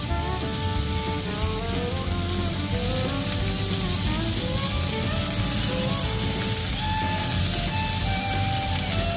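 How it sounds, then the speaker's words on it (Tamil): Tomatoes with a little salt and tamarind sauté in hot oil in a pan, giving a steady, close sizzle and crackle that runs without a break and stays loud throughout. "தக்காளியும் சுருளை வதக்கிக்குவோம்"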